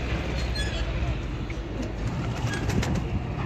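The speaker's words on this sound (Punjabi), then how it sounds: "ਇਹ ਵੀ ਜੀ ਸਾਦਾ ਜਿਹਾ ਕਬੂਤਰ ਹੈ ਜੀ" Breeder pigeons coo softly amid a busy, noisy loft ambience with faint background voices and distant traffic.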